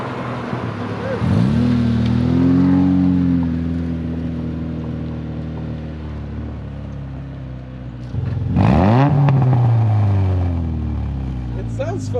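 A turbocharged Mitsubishi Mirage EVO engine drones loudly and steadily close by, with two rising rev swells near the start and again later, while people talk over it.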